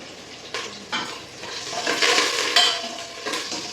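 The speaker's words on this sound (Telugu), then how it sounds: "నెక్స్ట్ టమాటా వేస్తున్నాం" Tomato pieces hit a hot pan and sizzle while being stirred for coconut rice, crackling frying bursts rising and falling with scraping stir strokes, fairly close and without talk.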